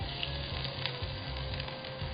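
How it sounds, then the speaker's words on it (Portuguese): Butter and a drizzle of extra virgin olive oil sizzle in a stone pan, a soft, steady frying crackle heard quietly and alone. "Eu vou adicionar um pouquinho de manteiga aqui na nossa panela e um fiozinho de azeite extra"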